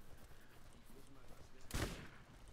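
A single sharp gunshot in the video game Borderlands cracks out against a low background murmur, brief and loud.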